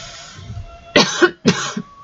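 Two sharp coughs in quick succession, close and fairly loud, over a quiet background.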